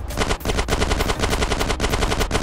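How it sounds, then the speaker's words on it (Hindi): Automatic gunfire in GTA San Andreas played on a mobile emulator: a loud, continuous burst of rapid machine-gun shots with a brief gap near the start, then unbroken fire. "गन फायर भी बराबर हो रही है"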